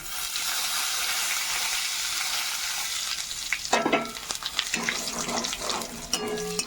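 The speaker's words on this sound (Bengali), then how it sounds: "গোটা গরম মশলা ভাজা হলে। তেজপাতা, এবার দিয়ে দিব গোটা জিরা।" Constant loud sizzle of whole spices, including bay leaf and cumin seeds, frying in hot oil, with a few scraping stirs and clinks near the end.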